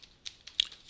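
Several quick keystrokes on a computer keyboard, close and crisp, in a short irregular burst with no talk.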